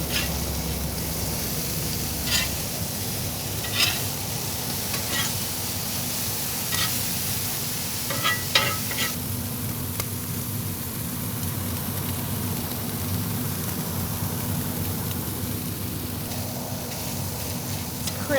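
Tortillas crisp in a hot pan with a steady, close hiss of sizzling and occasional soft pops and crackles, continuing without speech.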